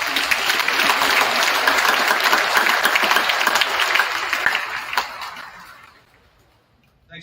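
An audience at a women's varsity high school basketball game claps in a sustained, full burst of applause that fades out over the last couple of seconds.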